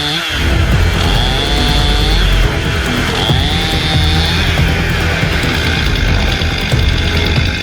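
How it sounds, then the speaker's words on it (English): A loud chainsaw runs continuously up close, its engine revving and whining as it bites through wood, with no pauses. "Instead of holding the chainsaw to cut, he's letting the wood come to the chainsaw."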